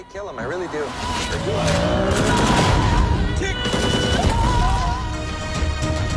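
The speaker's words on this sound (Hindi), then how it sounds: "आतिशबाजी का शानदार मुजाहरा" Fireworks crackle and pop in dense rapid bursts, loud and continuous, with crowd voices and whistling rockets mixed in.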